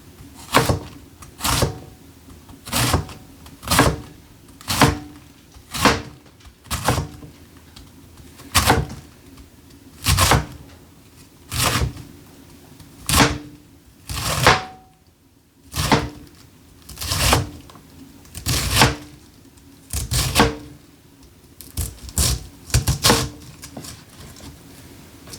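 A knife chops through a quarter of red cabbage on a cutting board, sharp crisp strikes in a steady rhythm of about one per second, close and distinct, with a brief pause midway.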